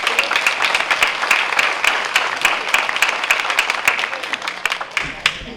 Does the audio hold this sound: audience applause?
yes